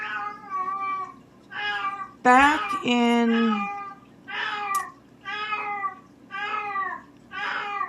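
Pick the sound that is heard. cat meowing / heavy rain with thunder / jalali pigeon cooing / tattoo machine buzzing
cat meowing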